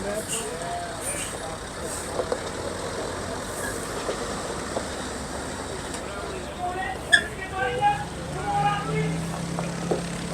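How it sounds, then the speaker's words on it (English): Big trucks idle at a village preservation society show among vintage engines and tractors: a steady, moderately close engine rumble and broadband drone with a few brief louder bumps, and faint voices in the background. "Some big trucks here."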